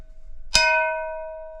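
A faint ringing tone hangs before a wooden stick makes a sharp metallic strike on a brake drum, which leaves a bright, bell-like ring slowly decaying.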